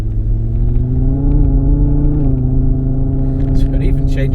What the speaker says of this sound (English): I've actually got a simulated engine sound noise, and I can turn that on and you'll hear what it sounds like